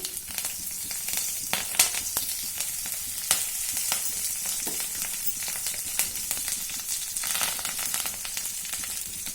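Garlic, curry leaves, and green and dried red chillies fry in hot oil in a pan with a steady, close crackling sizzle and occasional sharp pops, with no talking.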